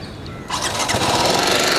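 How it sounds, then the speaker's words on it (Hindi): A BMW 310 GS motorcycle engine cranks and fires up, settling into a loud, close, steady idle. "so I will just start this bike now for you"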